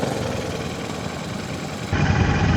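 A Royal Enfield Classic 650 motorcycle idling in gear at a Taiwan motorcycle show, a steady low rumbling engine drone with a slight knock, growing a little louder near the end.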